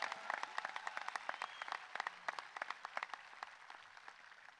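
Applause rises at the opening of the Bradley Central High School class of 2020 commencement, held outdoors under stadium lights. Many hands clap in a dense but faint patter, with individual claps standing out here and there, and no one is speaking.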